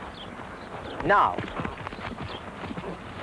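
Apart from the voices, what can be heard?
horse hooves breaking into canter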